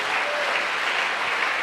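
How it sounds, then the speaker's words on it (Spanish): A church congregation gives strong, sustained applause at a morning service, a dense, even wash of clapping that fills the room without a break. "¿Cuánto le damos un aplauso fuerte a Jesús en esta mañana?"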